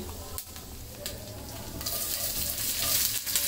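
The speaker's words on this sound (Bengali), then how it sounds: "এখন জিরা আর মরিটা একটু ভাজা ভাজা হয়ে এলে এখানে দিয়ে দিব পেঁয়াজ কুচি" Cumin seeds and dried chillies fry in hot oil in a pan for dhaba-style chicken, giving a continuous close sizzle that grows brighter and louder toward the end, with a few clatters of stirring.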